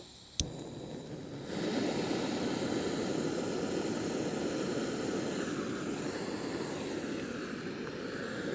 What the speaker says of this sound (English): So this stove's got its own built-in igniter. Get that valve open.